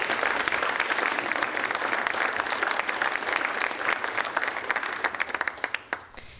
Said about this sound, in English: Let's give one last round of applause to all of our top 10 graduates.